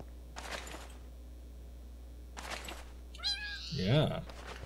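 A Minecraft cat meows in-game, a few short mewing calls near the end rising above quieter background, with bursts of speech-like sound earlier in the clip.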